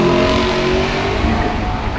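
An Audi R8 V10 Plus with a 600-plus horsepower V10 accelerates hard from the start line at the Goodwood Festival of Speed, a loud, close engine roar with rising tonal harmonics and crowd ambience beneath.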